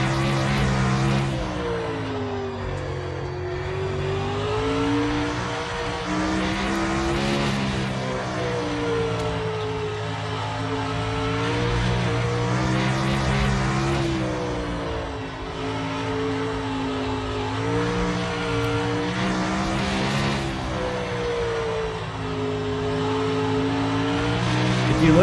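A winged sprint car engine in the iRacing sim roars continuously up close, its pitch rising and falling as the throttle is eased on and off through corners, with faint tire squeal.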